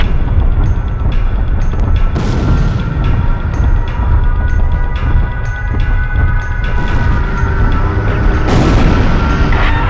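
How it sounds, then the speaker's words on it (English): Bombs dropped across a target area in the air-combat game Ace Combat Zero: The Belkan War, a continuous loud rumble of low booms and blasts with heavier explosions around two and eight and a half seconds, no talk. "They're just tossing bombs all over the place."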